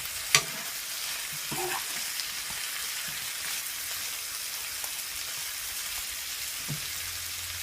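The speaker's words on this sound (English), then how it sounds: "So now I'm gonna add my prawns and my smoked sashes." Prawns and smoked sausage sizzle steadily in a hot pan, with a sharp utensil clack at the start and occasional scraping stirs under a continuous hiss.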